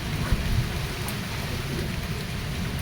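Steady heavy rain pours down outdoors, a dense continuous hiss with a low rumble beneath and one brief knock near the start, with no voices heard.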